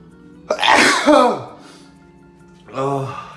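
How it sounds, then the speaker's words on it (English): A loud, close sneeze bursts out sharply, followed after a pause by a short voiced exhale or sigh. "Oh my god, I have to sneeze."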